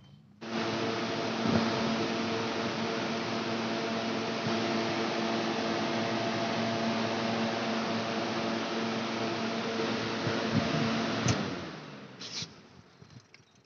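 An air cooler motor with copper winding hums and whirs steadily at speed with a broad airy drone, running alone for about eleven seconds before it switches off and spins down.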